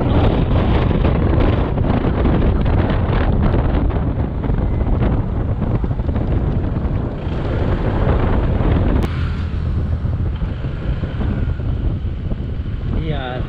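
Strong wind roars and buffets continuously against the microphone, loud and close, with a brief faint voice under the rumble.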